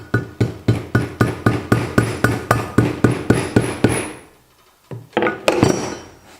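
A hammer taps a socket about fifteen times in a steady, ringing rhythm to seat valve locks on a 5.3 LS engine, followed by a pause and a few scattered metallic clatters.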